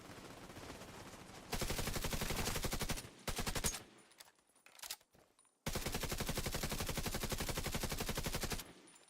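Automatic gunfire from The Division 2 on the streets of Brooklyn rips out in two long, loud sustained bursts separated by a few scattered single shots and brief quiet gaps.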